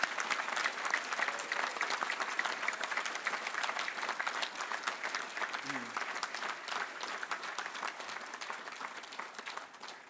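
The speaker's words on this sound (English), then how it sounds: "let's just give everyone one final round of applause and congratulations on your amazing" Graduation ceremony audience at Harper Adams applauding, sustained dense clapping with faint voices mixed in, fading slightly toward the end.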